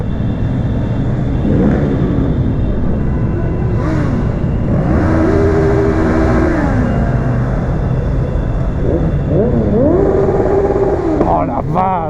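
Motorcycle engines revving loudly at a street protest ride, several sharp rising throttle blips and sustained roars over a constant traffic drone, close to the microphone, with a rider speaking intermittently.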